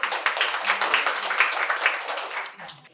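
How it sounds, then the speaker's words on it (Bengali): An audience applauds a quiz prize winner named Bilkis at a medical college and hospital event in Santiniketan. The clapping is loud and dense, then tapers off near the end. "জোরে হাততালি হয়ে যাবে একবার বিলকিসের জন্য।"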